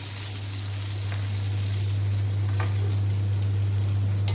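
Cashews and red chilies sauté in hot oil in a pan, a steady close sizzle with faint crackles over a low constant hum, and no talking.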